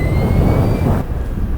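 Energica Experia electric touring motorcycle pulling hard under acceleration, a loud, steady rushing whine with a thin high motor tone that drops off sharply about two-thirds through, no voices over it.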